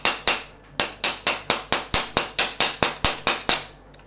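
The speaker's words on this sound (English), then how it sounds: "I only have a wooden hammer, so I'll use that and tap on it gently" A wooden hammer taps a bushing into a BMC Fourstroke dropper post frame, about fifteen sharp, close knocks in a fairly even rhythm with brief pauses, loud and alone without talk.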